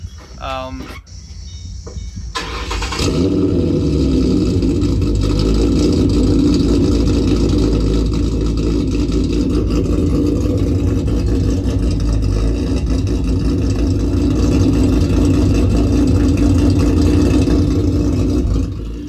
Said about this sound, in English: So that's a cold start, and let me tell you, in person, holy, wake up the neighbors.